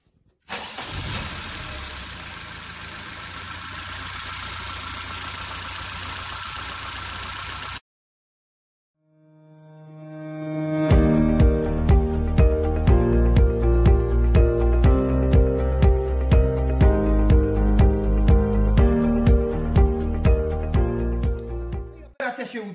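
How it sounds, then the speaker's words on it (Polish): A BMW 2002 engine: a first burst of steady noise, a brief pause, then the engine starting and running with a strong, rhythmic, pulsing idle that stays loud and close until the end. "W każdym razie silnik już odpala i bardzo pracuje,"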